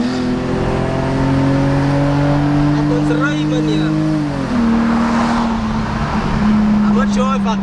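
BMW E46 car driving with a loud, steady engine drone that shifts pitch as it accelerates, heard from inside the cabin, with some voice-like sounds over it.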